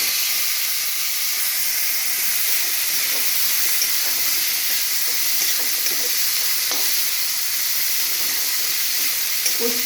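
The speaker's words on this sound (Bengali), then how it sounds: "উচ্ছে ভাজা করে নেব" Slices of bitter gourd fry in hot oil with a continuous loud sizzle and hiss, broken by faint clinks of a utensil stirring in the pan.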